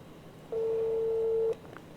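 A telephone line gives a single steady tone of about one second, flat and moderately loud, over a faint background hiss with no talk.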